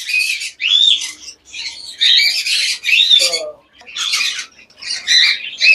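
Japanese budgies in a breeding cage give loud, close, harsh squawks and chattering calls in repeated bursts with brief gaps, and one lower call briefly stands out.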